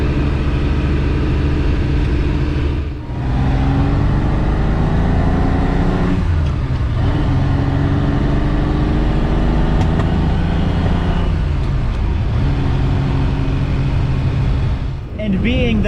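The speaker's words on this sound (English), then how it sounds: "listening to that 4-liter V12 just roar and sing and growl behind you" A Ferrari 330 America's 4-liter V12 drones loud and close, its pitch climbing smoothly through several gear pulls with brief dips between shifts, a continuous mechanical growl throughout.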